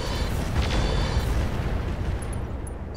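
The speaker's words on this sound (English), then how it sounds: "Firing a full salvo." Missile salvo in a Roguetech battle: a cluster of heavy booms and bursts around the first second rolling into sustained low rumble that fades toward the end.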